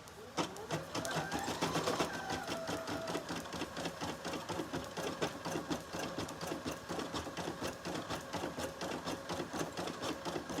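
A sewing machine runs a knockdown stitch along a robe, a fast, steady rattle of needle strokes that holds close and loud for the whole stretch with no talking.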